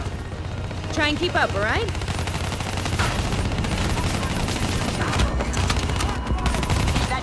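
Dense, continuous gunfire from a Black Ops 3 campaign firefight, rapid bursts layered with booms and battle din throughout, while a voice speaks briefly over the shooting.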